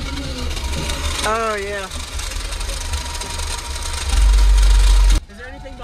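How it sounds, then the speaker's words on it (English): A car engine idles with a rough, vibrating cooling fan whirring steadily, loud and close, while someone speaks briefly over it before the sound abruptly cuts off. "That fan's rough."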